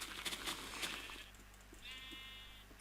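Sheep bleating in short Minecraft-style game sound effects, a couple of quick bleats followed by a longer wavering bleat, fairly faint.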